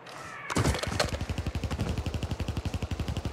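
Automatic gunfire in the shooter game Warzone rattles in a fast, steady stream of rapid shots after an initial louder burst, sounding sharp and fairly close rather than distant.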